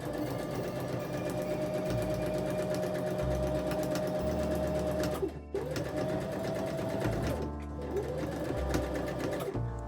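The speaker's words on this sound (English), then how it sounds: "Then I pin the lining to the skirt at the center fronts and stitch them together." A sewing machine stitches a lining to a pencil skirt at the center fronts, a loud close continuous run of rapid stitches with short stops and restarts and shifts in motor speed.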